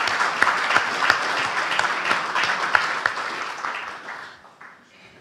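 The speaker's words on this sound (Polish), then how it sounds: "brawa dla laureata." An audience applauds a literary award laureate at a ceremony, with sustained dense clapping from many hands that fades away toward the end.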